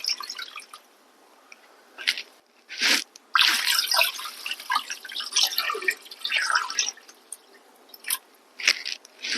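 Water is poured into a soup pot holding whole black peppercorns, heard as irregular close splashing and gurgling bursts that come and go over several seconds.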